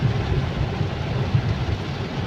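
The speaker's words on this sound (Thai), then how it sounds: "ฝนตกครับ" Steady heavy rain pours down with a continuous hiss and low rumbling, heard from inside a moving vehicle on the road up to Khao Yai, with no voices.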